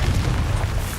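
The Confringo spell from the video game Hogwarts Legacy goes off as a single deep, loud explosive boom that fills the whole second.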